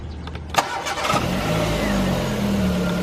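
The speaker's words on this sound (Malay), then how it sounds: "dia nak start enjin" A car engine cranks and catches, firing into a steady idle right after being cleaned in the engine bay, close and loud with a brief starter whir before the running hum settles.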